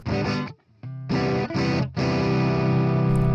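Electric guitar driven through an OKKO FX Dynamist overdrive pedal with the body knob raised for fuller low mids, playing thick distorted chords in short bursts with brief gaps, then one long sustained chord ringing out.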